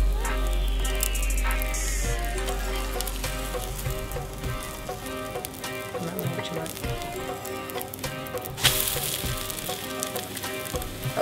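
An omelette cooking in a hot pan sends out a steady crackling sizzle, joined by a few scrapes and clatters and a sharp flare of hissing toward the end.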